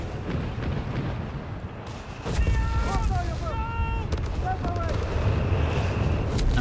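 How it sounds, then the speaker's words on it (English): Mortar fire across the battlefield in Company of Heroes 3, with thumping impacts and scattered booms under an ongoing mix of gunfire and whistling shells, and a commentator speaking throughout. "And a lot of mortar fire all over the place here."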